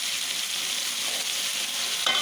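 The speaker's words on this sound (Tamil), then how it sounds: "இப்போ இதில் கறியை போட்டு நான் பிரட்டி எடுத்துக்கிறேன்." Chicken pieces fry in hot oil in a pan while being stirred, giving a steady, bright sizzle close by, with a brief scrape of stirring near the end.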